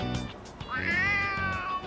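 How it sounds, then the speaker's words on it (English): A stray cat in the game Persona 3 Reload lets out a long, wavering meow that rises and trails off, loud and close over low background music. "Oh, a kitty cat!"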